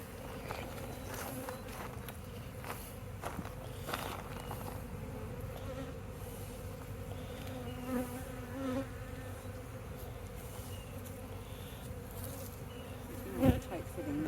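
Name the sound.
bees buzzing in a hive box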